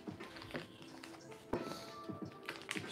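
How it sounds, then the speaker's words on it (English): A knife cuts butter in a home kitchen with a run of soft taps and clicks, one sharper knock in the middle, close but quiet. "Just cutting up some butter."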